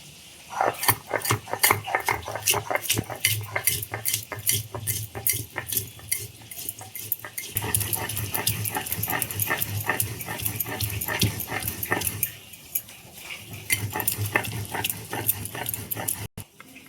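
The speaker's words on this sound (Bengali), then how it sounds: "তো জিরেটা আমি শিলে বাটবো" Rhythmic scraping and knocking of stone on stone as cumin, black peppercorns and green chillies are ground on a flat grinding stone, steady strokes repeating close by, with brief pauses and faint kitchen clatter.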